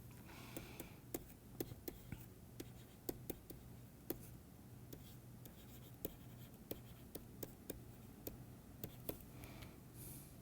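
Chalk or marker tapping and scratching across a board during a lecture on binary diffusion, in irregular quick strokes with brief pauses, fairly faint against a low steady room hum.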